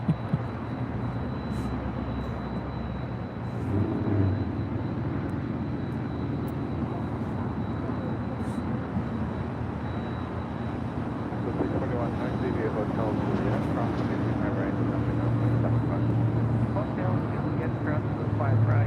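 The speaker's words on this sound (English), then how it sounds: "We have Nippon Cargo Airlines now pushing back 747-8 freighter." A Nippon Cargo Airlines Boeing 747-8 freighter pushes back at LAX, its steady engine and ground-equipment drone filling the whole stretch beneath ongoing talk.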